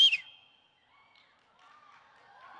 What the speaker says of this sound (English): I can loud whistle without using my fingers.